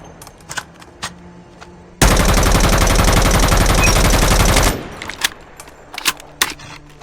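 An M4 rifle in COD Mobile fires one sustained loud automatic burst of about three seconds, rapid even shots packed tightly together, framed by quieter clicks and game ambience before and after.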